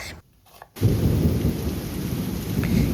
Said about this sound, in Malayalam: ഇന്നിവിടെ നല്ല മഴയാണ് കേട്ടോ, അലർട്ടൊക്കെ ഉണ്ട്